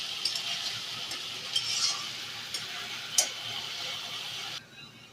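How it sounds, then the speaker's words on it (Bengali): Onion, ginger, garlic and chilli paste is stir-fried with whole garam masala for a meat dish, giving a soft steady sizzle broken by spatula scrapes and light clinks before cutting off near the end. "পেঁয়াজ দিয়ে ভাজা ভাজা করে আদা বাটা, পেঁয়াজ, রসুন বাটা, লঙ্কা বাটা দিয়ে ভালো করে কষাবো।"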